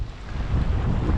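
Low, rumbling wind buffeting the microphone, a steady roar with gusty swells and no voices.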